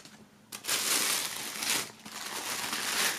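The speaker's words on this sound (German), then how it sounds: "der Rucksack ist hier noch verpackt in Folie und Papier" Plastic foil and paper crinkle loudly and continuously as a wrapped backpack is unwrapped up close, with steady crumpling rustles after a brief quiet start.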